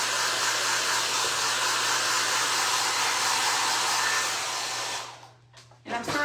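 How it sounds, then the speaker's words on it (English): A hair dryer blows steadily while heat-bonding paint on Dollar Tree candlesticks, a loud continuous whooshing roar that cuts off near the end, followed by a couple of faint handling sounds. "This stuff has to be heat bonded with the dryer, because otherwise it'll take us forever."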